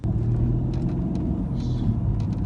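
A Mercedes-Benz car's engine rumbles low and steady from inside the cabin in sport mode on a test drive, a continuous road drone with faint rattles and no speech.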